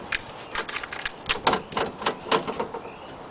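Adhesive tape is pulled and pressed onto the door window of a 2001 Honda Accord EX, a quick run of sharp crackling rips and taps close by, with no voice.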